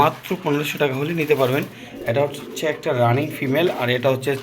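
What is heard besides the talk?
None of the usual background noises is heard.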